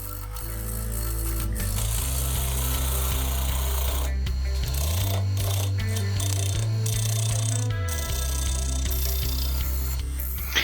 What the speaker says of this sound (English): I've actually turned to a roughing gouge here to remove some a little quicker